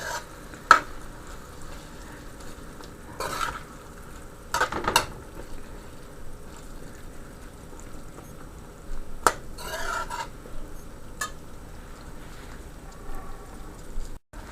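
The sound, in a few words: gravy simmering and being stirred in a pot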